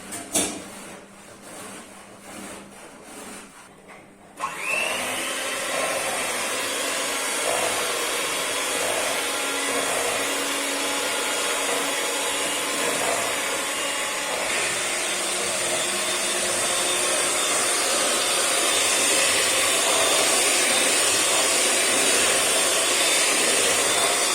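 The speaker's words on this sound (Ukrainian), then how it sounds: "я поставлю на паузу, бо міксер буде" An electric mixer starts after a few seconds of quieter handling noise and then whirs steadily and loudly without pause while cake batter is being made.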